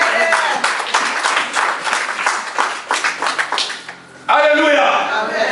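A church congregation bursts into sustained applause and cheering for Jesus, with dense rhythmic clapping filling the room, a brief dip, then a renewed loud swell of clapping and voices.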